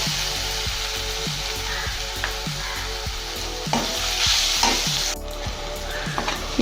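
Malabar biryani masala sautéing in a pan, with a steady sizzle under repeated rhythmic scrapes and knocks of stirring, close and fairly loud, and no talking.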